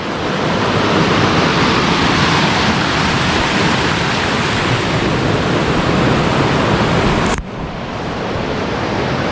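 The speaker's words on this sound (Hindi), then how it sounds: "जहाँ के वाटरफॉल आप मान देख लो, बहुत ही ब्यूटीफुल है।" Waterfall at Fish Point in Mainpat, clear water dropping into a gorge, a steady loud broadband roar that cuts off briefly near the end, then resumes slightly quieter.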